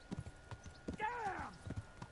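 A horse in the medieval role-playing game Kingdom Come: Deliverance clops along with rhythmic hoofbeats, then lets out a clear, descending whinny in the middle, with a voice speaking faintly underneath.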